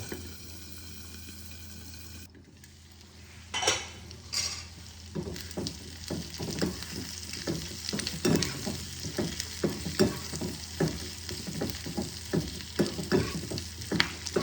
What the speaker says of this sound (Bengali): পেঁয়াজগুলো দেখো আমার লাল লাল করে ভাজা হয়ে গেছে